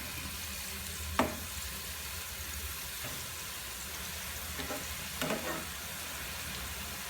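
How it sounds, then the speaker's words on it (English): Samosa pockets fry in hot oil with a steady, close sizzle that runs throughout, broken by a few brief clinks and stirring knocks. "You place them on the oil, in the oil, sorry."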